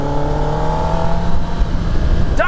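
A 2024 Kawasaki Ninja ZX-10R sport bike engine hums loudly and steadily during a ride, its tone shifting slightly as revs change, with no talking.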